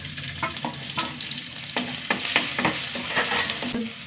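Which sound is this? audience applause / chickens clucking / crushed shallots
crushed shallots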